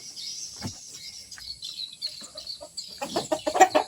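Free-range village breeding hens cluck intermittently from close by, soft scattered clucks building into a busier burst of calls near the end, with no talking.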